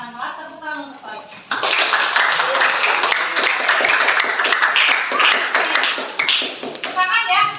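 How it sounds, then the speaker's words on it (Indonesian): Students clap together for a classmate in a school classroom, a sudden burst of close, loud clapping that starts after a brief spoken moment and continues unevenly, with a voice audible near the end. "Tepuk tangan untuk Torik."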